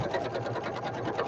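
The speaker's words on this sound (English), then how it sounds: "your sewing machine is fantastic" A domestic sewing machine stitches fabric flowers for a nest flower basket, running steadily and closely with a fast, even mechanical whir throughout.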